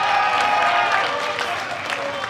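Wrestling crowd in Stevenage applauding and cheering for their champion Michael Oku, a steady dense roar of clapping and voices under a commentator's talk.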